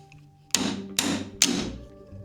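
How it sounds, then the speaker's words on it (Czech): A hammer strikes small wooden pieces for a handmade birdhouse three times, crisp separate taps about half a second apart, close and clear in a quiet room. "vezmu si i kladivo"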